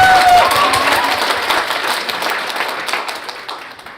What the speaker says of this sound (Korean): 네, 일단 박수 한번 할게요.